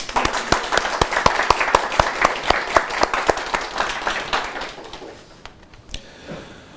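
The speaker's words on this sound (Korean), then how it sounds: "박수 한번 쳐주십시오." A small audience applauds at a veterans' talk, the rhythmic clapping of a modest crowd nearby, strong at first and then thinning out and fading over several seconds.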